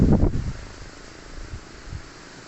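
Gusty wind buffeting the microphone, a loud low rumble at first that settles into a steadier roar with a few brief surges.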